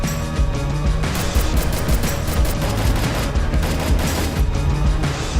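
Rapid gunfire from the mobile game Free Fire, loud bursts of automatic shots and booms repeating steadily over several seconds, with no talking.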